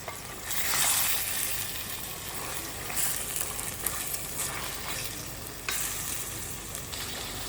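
Black cardamom and cinnamon sizzle and fry in hot oil in a pan for chicken curry, a steady loud crackling hiss with brief stirring scrapes and bursts, close up and without talk.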